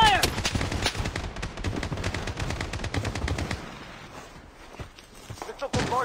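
Automatic gunfire in the shooter game Blood Strike: loud, rapid bursts of shots for several seconds, then a quieter stretch with scattered noise before another close burst, with voices speaking under the action.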